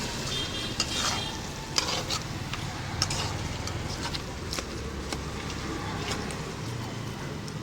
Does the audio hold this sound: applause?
no